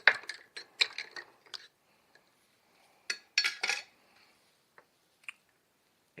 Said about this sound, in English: let's give it all a stir first.